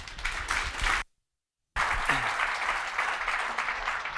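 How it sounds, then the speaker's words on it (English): Conference audience clapping for a speaker, a dense, close burst of applause broken by a short silent gap, then resuming just as strongly. "So let's give a big round of applause for Kenny."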